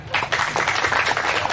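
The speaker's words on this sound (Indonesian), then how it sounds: "Tepuk tangan." Audience applause at a Kenduri Cinta gathering, a dense steady burst of clapping that fills the short moment from start to finish, with no voices over it.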